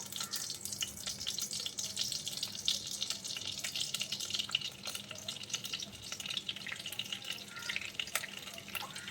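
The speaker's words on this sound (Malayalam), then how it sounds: "അതിൻ്റെ കൂടെ തന്നെ ഞാൻ ഒരു പീസ് ബട്ടറും കൂടി ചേർക്കുന്നുണ്ട്." Butter, unsalted, melting into hot oil in a pan for a malai mushroom curry gives a steady close hiss and crackle with fine bubbling, continuous throughout with no talk.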